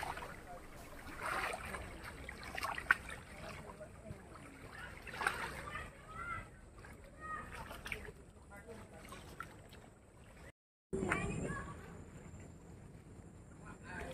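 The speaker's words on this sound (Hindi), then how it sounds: "पानी की लहर के इतने प्यारे प्यारे सुकून भरी साउंड है ये" Gentle water waves lapping outdoors, soft and fairly faint, with wind buffeting the microphone and a brief dropout near the end.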